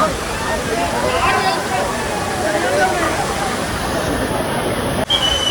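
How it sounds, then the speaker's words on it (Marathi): A steady, loud roar of rushing water from Amboli waterfall in Maharashtra fills the scene, with crowd chatter blended into the constant wash. "हे आहे ठिकाण आंबोली धबधबा"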